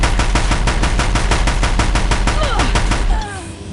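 Rapid automatic gunfire in the Horizon Zero Dawn video game, a loud, evenly spaced burst of shots for about three seconds that cuts off abruptly, with a few faint whooshing effects near the end.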